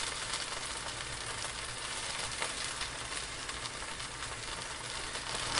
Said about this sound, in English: You kind of toss it in oil. Kind of fry it, but gently.